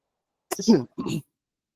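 A person gives two short coughs close to the microphone during an online web development lesson, two quick rough bursts separated by a brief pause.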